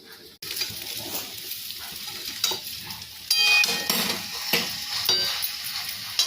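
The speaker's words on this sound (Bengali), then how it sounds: "এবার কচু শাকটা দিয়ে দেব, দিয়ে তারপরে রান্নাটা করব" Taro leaves frying in a pan with panch phoron and nigella seeds give a steady sizzle, broken by a clatter as they go in and by repeated metallic stirring scrapes, close with no talk.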